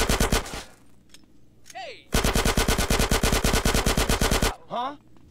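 Automatic gunfire rattles in GTA San Andreas, a long rapid burst, a short pause with a few faint whistling sounds, then another sustained loud stream of shots that stops abruptly.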